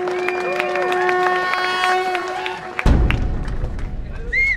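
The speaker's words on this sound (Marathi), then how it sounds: "जोरदार टाळ्या महेंद्र पगड्यांच्यासाठी" At a Shambhuraje coronation ceremony in Pune, sustained tonal music gives way to a loud wave of audience applause, with dense clapping and crowd noise close to the microphone.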